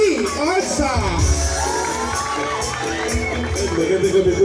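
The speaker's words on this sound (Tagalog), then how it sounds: "ibigay nyo na ang malakas na palakpakan na may kasamang hiyawan" A large fiesta crowd in Sitio Taguisan cheers and shouts loudly, a dense, close roar of yells and whoops, with clapping mixed in throughout.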